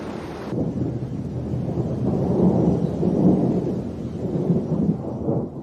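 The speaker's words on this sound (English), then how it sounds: "Thunderstorms. When the storm season hits" Thunderstorm over eagle country, with rolling thunder rumbling continuously beneath steady rain, loud and close throughout.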